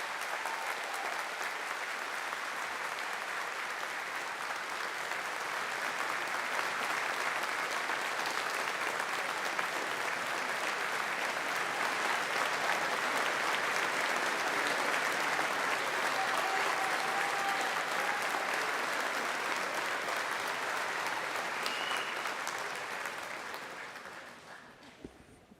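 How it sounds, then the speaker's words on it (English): Long, sustained applause from a large audience at a college commencement ceremony, honoring a retiring faculty member; dense, even clapping that holds steady for over twenty seconds before tapering off. "join me in giving a big round of thank you applause to Roberta Tibbetts for 55 years of service"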